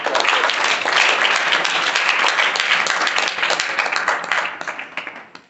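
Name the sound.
applause from an audience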